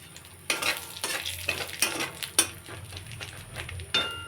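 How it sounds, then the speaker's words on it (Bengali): Whole white mustard seeds fry in hot oil left from frying fish, a soft sizzle under repeated scraping strokes of a spoon in the pan and occasional metallic clinks. "তেলটা গরম হয়ে গেছে। একটু গোটা সাদা সর্ষে দিয়ে দেবো।"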